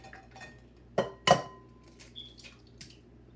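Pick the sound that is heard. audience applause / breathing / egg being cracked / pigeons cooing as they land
egg being cracked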